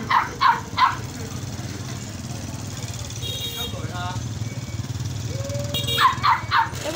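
Dogs at Bac Ha market bark in two quick bursts of three, one at the start and one near the end, with a steady crowd and engine hum between them and someone talking over it.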